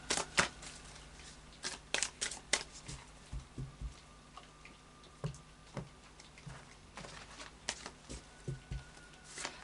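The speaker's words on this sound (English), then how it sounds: "Okay, so a final shuffle of the Anarchy Tarot." Soft, close shuffling of a deck of Anarchy Tarot cards, irregular light taps and riffling flicks repeating through the stretch, faint against a quiet indoor background.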